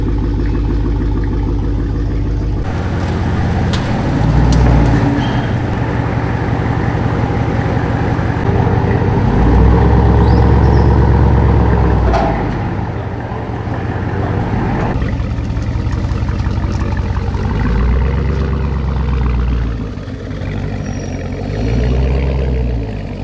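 A Dodge Demon muscle car runs on a dynamometer, its engine loud and close with a sustained roar that swells and eases through several long revving pulls, with no voices over it.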